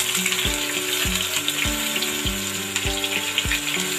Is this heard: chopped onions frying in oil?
yes